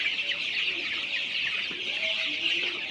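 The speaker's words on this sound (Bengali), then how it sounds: "আমি ২০০০ পিস সোনালী সুপার হাইব্রিড মুরগির বাচ্চা উঠিয়েছি" A shed of 19-day-old Sonali super hybrid chicks fills with continuous high cheeping and soft clucks, a dense steady chorus at moderate level with no voices.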